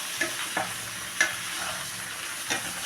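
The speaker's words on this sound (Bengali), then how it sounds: "এবার আমি এতে লাউগুলো দিয়ে দেবো, লাল সাথে আলুগুলো দিয়ে দেবো, দিয়ে ভালো করে একটু ভেজে নেবো এটাকে।" Bottle gourd and potato pieces fry in a pan, giving a steady sizzle with a few sharp stirring clicks and scrapes spread through it, close and moderately loud, with no talking.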